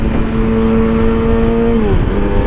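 A Yamaha R6 motorcycle, previously crashed, races at high speed with a loud, steady engine drone that drops in pitch near the end, over strong wind rush.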